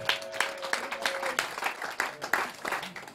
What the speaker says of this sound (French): Acclame cette parole.